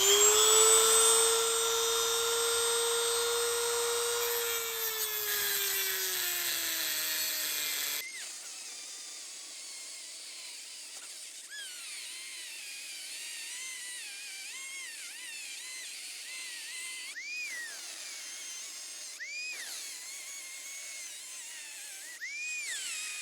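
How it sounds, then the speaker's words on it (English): A Dremel rotary tool cuts down a 7/16 socket for valve adjustment on a 1968 VW Bug. A loud high whine runs steadily, then drops in pitch and turns to lighter, intermittent grinding with short bursts. "Using my favorite handy tool, the Dremel."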